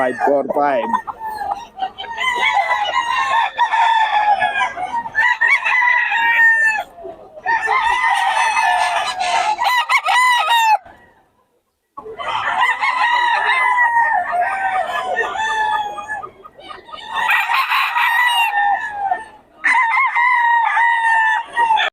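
Roosters of a Batangas-bred flock crow loudly and repeatedly, close by and overlapping, with clucking between the calls and voices occasionally talking in the background.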